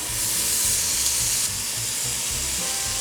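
Pork belly hits a hot pan coated with grapeseed oil, letting out a loud, close, continuous sizzling hiss with crackling underneath that holds steady throughout.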